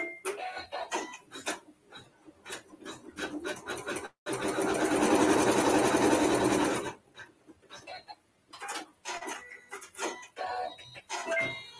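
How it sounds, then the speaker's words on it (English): A sewing machine stitches down a fabric tack for a cartwheel quilt block, running in a loud continuous burst of about three seconds mid-clip, with shorter stop-start stitching bursts before and after. "then we're going to sew our tack down."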